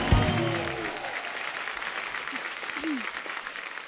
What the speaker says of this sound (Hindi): नोरा के लिए जोरदार तालियां।